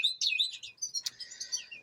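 Canary chicks chirp rapidly in thin, high-pitched bursts as a female canary feeds them in a breeding cage, close and fairly quiet, with no voices over them.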